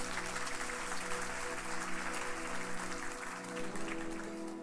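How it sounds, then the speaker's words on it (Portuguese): A church congregation at a worship service claps together in a loud, sustained burst while sustained music tones hum underneath. "Aplauda a presença de Deus."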